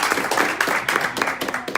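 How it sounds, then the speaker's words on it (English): Light scattered clapping from a small audience at an academy gathering, a short irregular patter of hands, close and moderately loud. "Let's give a round of applause."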